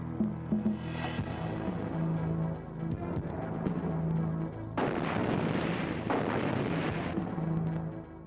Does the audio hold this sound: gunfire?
yes